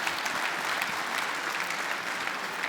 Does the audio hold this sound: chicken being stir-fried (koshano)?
no